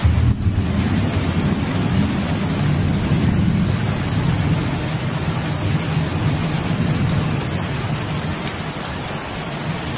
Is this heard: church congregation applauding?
no